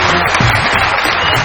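Loud, dense applause from a studio audience welcoming a guest on a comedy talk show, close and continuous throughout.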